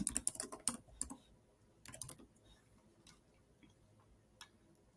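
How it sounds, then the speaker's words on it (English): Bursts of keystrokes on a computer keyboard, fast clusters of clicks in the first second and again near two seconds, then sparse isolated taps over quiet room tone. "So I'm going to type those in."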